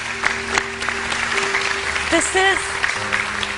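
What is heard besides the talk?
studio audience applause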